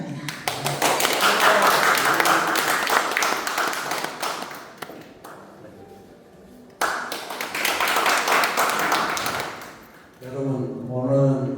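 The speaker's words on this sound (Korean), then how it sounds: "여러분 박수가 필요합니다." Audience clapping at a Korean arts association forum and founding-member exhibition, dense and sustained from a crowd, fading briefly mid-way before a second strong wave; a voice begins speaking near the end.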